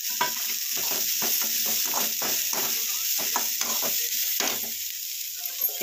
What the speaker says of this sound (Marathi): असं भाजून घ्यायचं फ्लावर